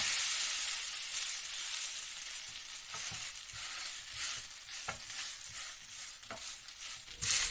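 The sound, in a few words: shredded potato pancake sizzling in a pan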